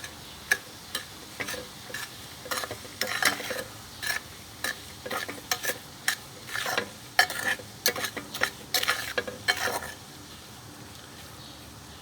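Material being stirred in a pot gives a regular series of scraping clicks, roughly two per second, over a faint steady hiss; the strokes stop near the end, leaving quiet background.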